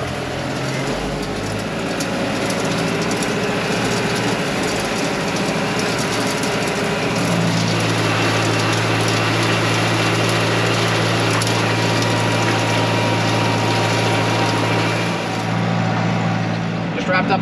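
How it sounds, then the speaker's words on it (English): Tractor engine running steadily while raking hay in a field, a loud continuous drone with a low hum that deepens and steadies partway through, mixed with rattling implement noise and no talking. "now I'm in the 100 raking hay"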